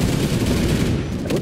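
Automated turrets firing rapidly in the video game NightFall, a dense, continuous, loud rattle of gunfire running the whole time without pause.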